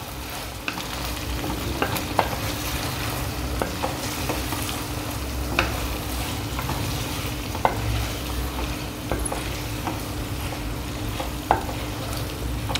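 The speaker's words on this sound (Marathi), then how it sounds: "परत एकदा मिक्स करून घेऊया." Mexican rice with red, green and yellow peppers stirred in a pan, a steady low sizzle with scattered light scrapes and taps of the spoon spread evenly over the stretch.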